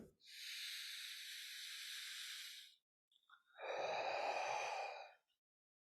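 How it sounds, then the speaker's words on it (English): Two long, forceful breaths during a core exercise with push and pull movements, each a close, breathy hiss lasting a couple of seconds, separated by a brief quiet gap, with no talking. "Exhale, drawing navel into spine."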